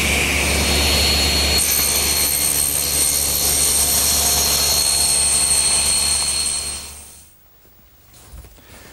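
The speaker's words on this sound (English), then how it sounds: "my homemade panel cutter, and it's perfect for squaring up wide boards or panels" A homemade panel cutter saw trims about three-quarters of an inch off a wide board, a loud, steady, close whine running for about seven seconds before cutting off and fading to quiet.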